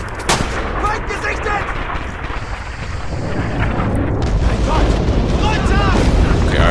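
Heavy artillery explosions in Rising Storm/Red Orchestra 2, a sustained loud rumbling barrage of booms and blasts on a winter forest map, with a voice talking over the battle.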